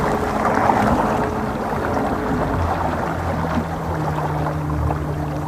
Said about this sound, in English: All you're getting is a bit of splashing of water.